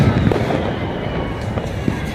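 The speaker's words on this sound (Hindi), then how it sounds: "ऐसा पटाखा बोला कि चलते हमारे भैया जी" A firecracker lit and left to explode outdoors, a loud crackling blast with scattered pops trailing off over a couple of seconds.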